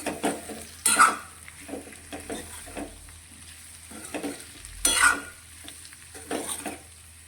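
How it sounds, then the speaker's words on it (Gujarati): A spatula scrapes and stirs through potatoes sizzling in a pan, with irregular clinks and scuffs against the metal over a constant low fry. "તો શાકને સારી રીતે આપણે એકાદ મિનિટ માટે આ રીતે મિક્સ કરીશું"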